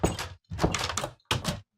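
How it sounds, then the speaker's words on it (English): A door closes in a video game with several heavy thunking knocks in quick bursts, separated by short silent gaps. "but I can close my door"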